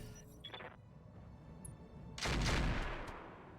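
Mech weapons fire in the BattleTech mod RogueTech, with a few faint early shots followed by one loud, broad blast that swells and rings out for about a second before easing into low rumble.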